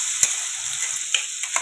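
Crushed spice mixture frying in hot oil in a heated kadhai, a steady close hiss of sizzling broken by a few sharp stirring clicks.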